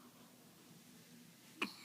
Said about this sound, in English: Still hiccupy.